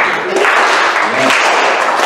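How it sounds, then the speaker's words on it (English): Clapping from a crowd, steady and fairly loud, with voices and cheering mixed in throughout. "Slow clap him up."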